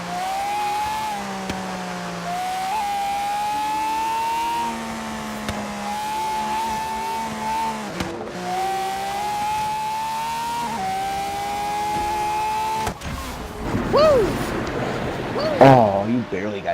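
Racing car engines whine steadily at high revs in the Forza racing game, with tire squeals rising near the end, under ongoing chatter from players.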